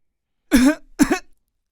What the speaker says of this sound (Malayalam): അതാരാ ചുമച്ചത്?